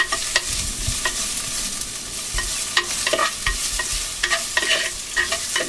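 A measured cup of chopped onion sautés in a pan with steady sizzling and repeated scraping stir strokes, close and continuous, with no talking.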